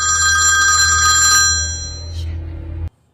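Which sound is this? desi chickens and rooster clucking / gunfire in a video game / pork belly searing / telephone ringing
telephone ringing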